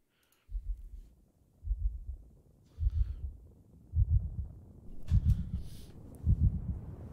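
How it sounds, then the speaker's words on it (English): Heartbeat thumps open a song, six deep double-beat pulses in a slow steady rhythm, growing a little louder against a quiet background. "It's got a heartbeat."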